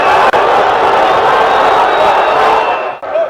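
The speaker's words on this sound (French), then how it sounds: "Une foule qui semble être divisée avec un Khalifa Sall hué" Large outdoor rally crowd at Place de la Nation booing Khalifa Sall, a loud, dense, sustained roar of many voices that drops out briefly near the end.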